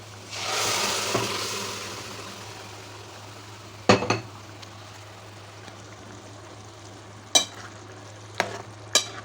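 Cooked meat curry fries in a pan as it is stirred for a home lunch, with a soft sizzle early on and then several sharp scrapes and clinks of a utensil against the pan.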